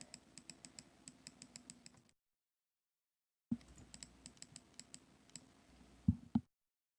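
Keyboard shortcut keys clicking during a 3D sculpting session, a quick run of light taps with a pause, then more clicks and a couple of louder knocks near the mic, with no talking.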